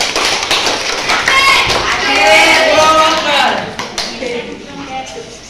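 A classroom of students clapping hands together in a counted rhythm, sharp taps repeating steadily and close, with children's voices chattering over the claps.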